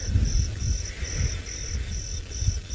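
Crickets chirp in steady, evenly spaced pulses at night in the African bush, a high, bright trill repeating about every half second over low rumbling background noise.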